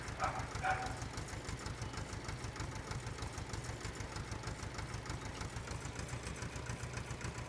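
A tractor engine in Farming Simulator 15 drones steadily at a low idle with a regular rhythmic chug throughout, close and fairly loud, with no clear rise in revs.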